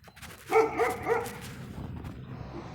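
Small dogs bark in a short cluster of yaps near the start, then fade into a low background hum with no talking.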